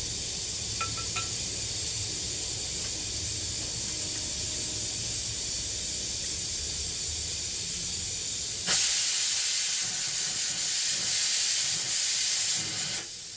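A pressure cooker cooking mutton hisses steadily with steam, then bursts into a louder, harsher rush of escaping steam partway through that continues to the end.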